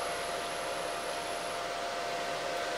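A plasma welder torch, a 200PW unit, runs its pilot arc as a steady broadband hiss with a faint high whine, continuous and even throughout with no talk.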